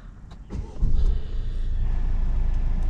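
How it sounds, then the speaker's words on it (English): A Peugeot SUV engine cranks and catches with a short burst, then settles into a steady, close low idle rumble with no talking. "let's start this vehicle up"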